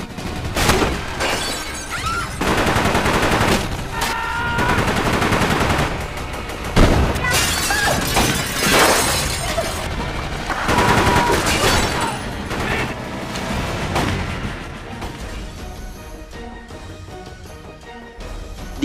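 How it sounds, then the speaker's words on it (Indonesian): Dense gunfire from a film shootout between police and a group, with rapid bursts, booms and shattering impacts, loud and nearly continuous throughout. "terjadilah aksi saling tembak-menembak di antara mereka semua"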